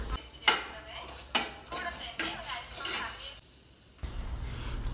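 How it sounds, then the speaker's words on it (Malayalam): Chopped tomato tipped into a hot pan for mutton curry, giving a few sharp metallic clinks of a utensil against the pan and then a soft sizzle and stirring. A brief quiet gap follows before low background noise resumes. "ഒരു തക്കാളി അരിഞ്ഞതാണ് അടുത്തത് ഇട്ട് കൊടുക്കുന്നത്"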